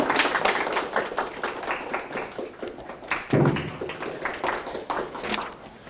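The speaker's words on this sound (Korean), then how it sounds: "앞으로 오실 때 박수 부탁드리겠습니다" Audience applause at a Korean AI safety seminar, a dense run of hand claps lasting several seconds at steady volume, with a brief voice rising in the middle.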